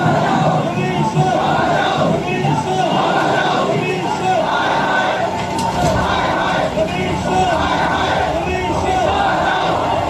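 A dense crowd shouting and clamoring as the chief minister is about to leave, loud and continuous, with overlapping voices and cries blending into a roaring babble close to the listener.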